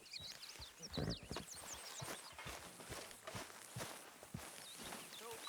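Horse hooves clip-clop in Red Dead Redemption 2 as a quick, uneven run of fairly close thuds, joined by high whistling chirps and other faint game sounds.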